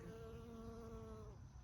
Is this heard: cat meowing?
no